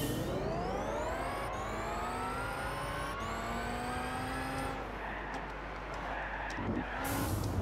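Bugatti Veyron engine in the Gran Turismo 6 racing game, a loud high whine climbing through gears, dropping sharply at each shift and rising again, steady and close.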